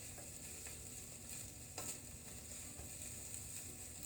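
Soy sauce being stirred into chicken fried rice in a hot pan: a steady sizzle with scraping stirs that runs throughout, with no talking.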